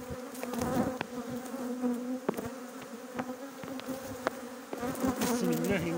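Honeybees swarm and buzz around an open hive as a beekeeper transfers brood frames outdoors in the mountains, a dense droning hum with shifting pitches from individual bees passing close, plus occasional sharp clicks and knocks of handled frames.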